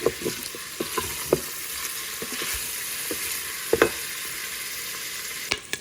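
Sausage meat browning in an Instant Pot, a continuous close sizzle with occasional scraping and stirring knocks as browned bits are loosened, with no talking.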